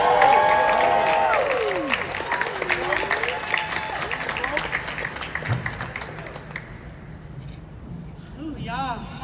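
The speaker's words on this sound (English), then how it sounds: "Round of applause for my lady," Crowd applause and cheering at a boxing press conference for Claressa Shields, loud at first and slowly fading under ongoing talk, with a voice over the noise.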